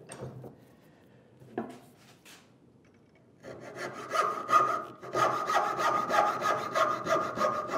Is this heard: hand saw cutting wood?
yes